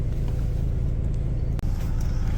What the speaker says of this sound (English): We're on the bus now